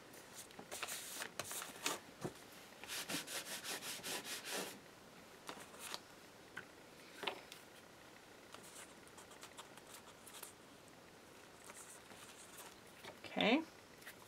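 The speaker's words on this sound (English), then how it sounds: "Just using a Yoohoo glue stick." A Yoohoo glue stick rubbed across paper in a crafting journal, giving soft close scraping strokes in a few bursts and then fewer, fainter swipes over a quiet background.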